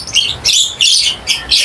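Loud, close birds call in repeated bursts, sharp chirps and tweets about every third of a second with brief gaps between, no voices present.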